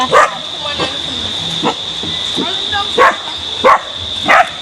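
A dog barks in short bursts, several sharp yips spaced irregularly over a steady high-pitched whine in the background, with people talking nearby.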